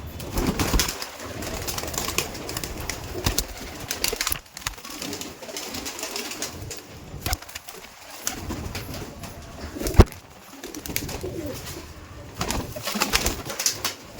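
Kaldom pigeons coo in a loft, soft rolling calls overlapping continuously from several birds near and farther off, with occasional wing flutters and small knocks, no voices.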